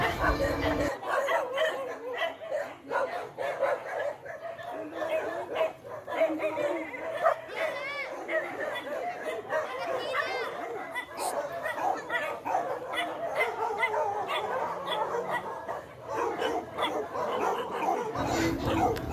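Dogs at an animal shelter for abandoned dogs and cats bark and yip repeatedly in overlapping bursts at close to moderate distance, with people's voices heard among them.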